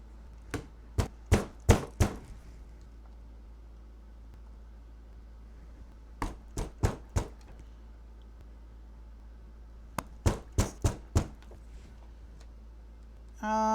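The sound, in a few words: hammering pliers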